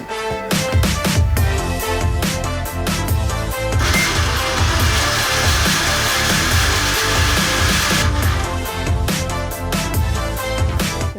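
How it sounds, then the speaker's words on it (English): A stainless steel mixer grinder jar blending chutney with salt and fresh yogurt, a loud whirring motor surge in the middle stretch under steady background music, with no talk. "Cover the jar and you're ready to grind."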